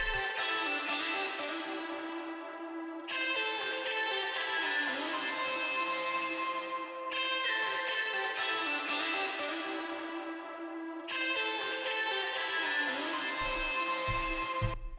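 Electric guitar solo from a band's song, dense sustained bright tones running continuously and loud throughout, layered with other instruments, no talking.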